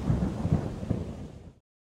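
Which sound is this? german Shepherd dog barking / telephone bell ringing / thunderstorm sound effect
thunderstorm sound effect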